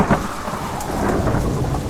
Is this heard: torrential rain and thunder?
yes